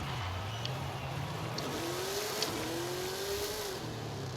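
An MG XPower drag car in Forza Horizon 5 holds a steady engine drone through a quarter-mile pass, its pitch climbing through gear changes and then dipping. It runs continuously at moderate level with no talk over it.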